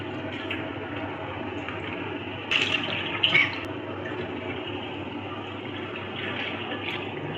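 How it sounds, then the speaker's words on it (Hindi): Three liters of cooking oil pour into a large pot for a village-style aloo baingan curry, a steady close liquid rush with a couple of brief clinks partway through. "तो हमने 3 लीटर ऑयल डाल दिया।"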